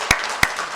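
A church congregation gives brief welcoming applause for a new member, heard as two short, sharp bursts of clapping spaced apart.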